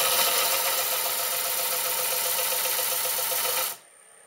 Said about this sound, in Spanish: arrancamos nuestro disco de lija